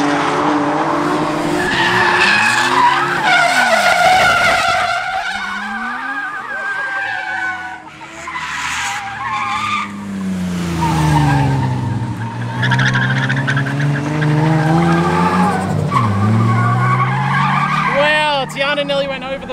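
A Nissan 350Z drifts into a backwards entry, its tires squealing and skidding loudly in long wavering howls over engine revving, with voices talking and shouting nearby.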